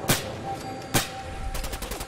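Gunfire in the Fallout 4 video game: two sharp, loud shots roughly a second apart, followed by a rapid burst of quicker shots near the end.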